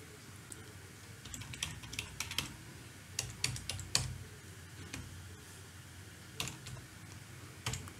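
Password typed on a computer keyboard while installing CentOS 7 Linux in Oracle VirtualBox: quiet, irregular keystroke clicks in short bursts with brief pauses between them, alone over a faint room hum.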